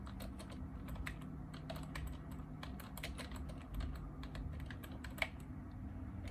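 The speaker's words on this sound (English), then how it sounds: "And using kind of an old keyboard." Fingers tap quickly on an old computer keyboard used with a Power Mac G5, producing a steady stream of close, crisp key clicks with one sharper clack near the end, over a low hum.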